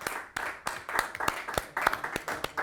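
Applause at a puppet theatre's anniversary event: a small group claps steadily and a little unevenly, with sharp, close hand strikes repeating roughly every quarter second.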